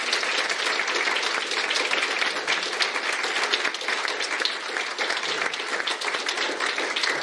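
A reunion audience breaks into steady, dense applause, many hands clapping together at an even level for the whole stretch with no voices rising above it.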